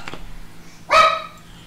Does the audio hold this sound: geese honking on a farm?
no